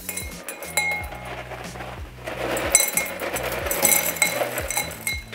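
Ice cubes clink and rattle as they fill a cocktail glass for a Moscow Mule, with a run of bright glassy knocks close up and a low musical background underneath.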